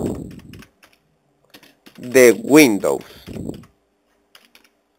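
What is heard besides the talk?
typing on a computer keyboard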